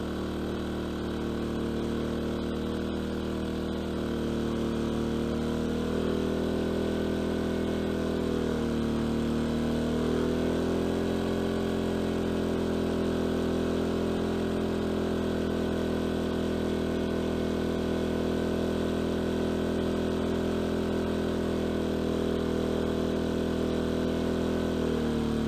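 An A-iPower SUA2000i inverter generator runs with a steady, droning engine hum whose pitch shifts slightly now and then, continuous and fairly close with no voices.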